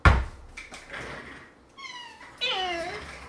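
A cat meows indoors: a couple of soft, short mews followed by a louder, clearer drawn-out meow near the end, close by, with a thump at the start.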